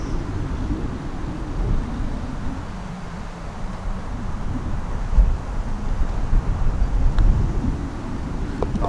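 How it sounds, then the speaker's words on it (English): Wind gusts across an open golf course, producing a continuous loud rumble of wind buffeting the microphone that swells and eases over several seconds, with no clear speech. "Bit of a gust there as well. You feel it? You're going to get that on a golf course, though."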